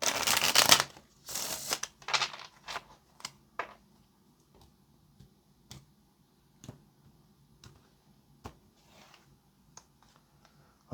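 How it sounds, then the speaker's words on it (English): Tarot cards shuffled by hand, a couple of loud riffling bursts at first, then a run of sparse crisp clicks and taps as the deck settles, close up and with no speech. "Let's go ahead and make this the last shuffle."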